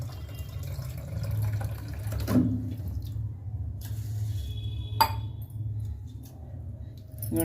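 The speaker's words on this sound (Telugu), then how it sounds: "ఈ గ్లాస్తో ఒకటిన్నర గ్లాసు నీళ్లు పోస్తున్నాను" Water poured from a glass into a pressure cooker of washed basmati rice for carrot rice: a continuous steady pour with a couple of brief clinks against the vessel.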